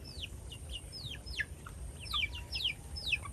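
Chicks and chickens of varied plumage colors chirp and peep in rapid, overlapping high calls over a low rumbling background, with no talking.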